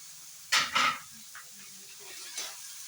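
Chhana mixed with chopped coriander leaves in a pan for kochuri filling, giving two short scraping stirs near the start and a softer one later, close and moderately loud over a quiet background.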